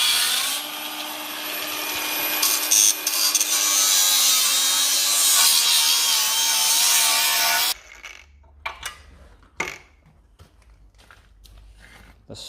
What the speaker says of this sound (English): As you can probably hear, there's some grinding going on in the background. That's because Jonathan is doing some cutting.